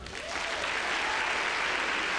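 A comedy club audience answers with applause, a dense sustained patter of many hands that builds and holds steady at a fairly loud level.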